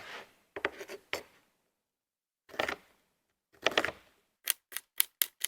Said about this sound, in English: Cut them into little strips